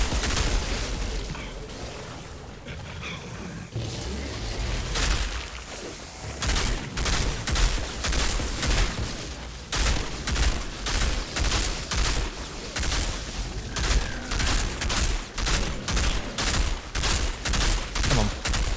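Sustained gunfire in the third-person shooter Outriders, dense rapid shots in rhythmic repeated bursts with brief gaps, loud and close over a constant background rumble.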